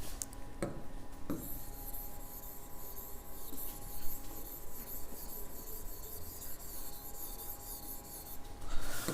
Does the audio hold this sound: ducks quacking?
no